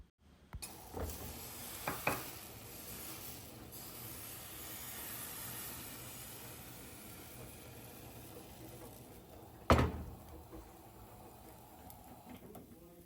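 Dosa-style crepe batter cooking in a hot pan for chicken rolls, giving a steady soft sizzle and hiss, with a few light scraping clicks and one sharp clatter partway through.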